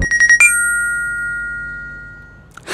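A phone ringtone chimes while a call is placed, a few quick bright electronic tones and then a longer ringing note that fades out slowly, loud and close with no voices.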